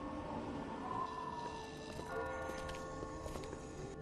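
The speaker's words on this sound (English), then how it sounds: "I just got spooked by those bells" Bells ring out in The Walking Dead video game, a few sustained, moderately quiet metallic tones layered over a low, murky ambient background.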